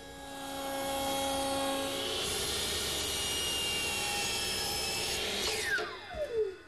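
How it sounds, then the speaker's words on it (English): A router table spinning a 1-inch radius bit eases the top edges of redwood rails, a loud, steady, whining roar that holds for several seconds and then winds down as the motor coasts to a stop. "To ease the top edges of each rail, I'm using a portion of a 1-inch radius router bit in my router table."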